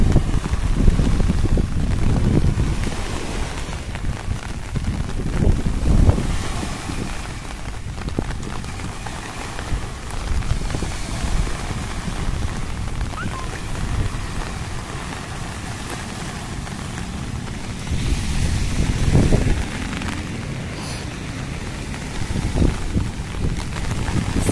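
Strong typhoon wind buffets the shore at Manila Bay with rain, a continuous roaring rumble and gusting microphone noise that surges and eases in waves, loud and close, with no talk.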